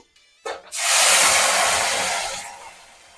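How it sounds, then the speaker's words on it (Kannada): Ground onion and turmeric paste hits hot oil with a sudden loud sizzle, a broad steady hiss that swells within a second, holds, then eases off slightly toward the end, with no talking. "ಇವಾಗ ಎಣ್ಣೆ ಕಾದಿದೆ, ನಾನು ರುಬ್ಕೊಂಡಿರುವಂತಹ ಈರುಳ್ಳಿ ಮತ್ತು ಅರಿಶಿನ ಹಾಕ್ತಾ ಇದ್ದೀನಿ"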